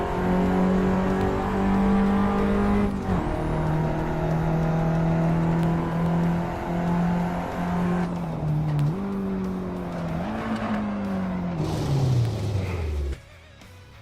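Race car engine in the sim game Assetto Corsa holds a loud steady drone, shifts up around three seconds, then winds down under engine braking with pitch falling before cutting out near the end.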